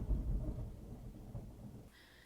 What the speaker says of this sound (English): It started thundering so much, and it got so dark in my room.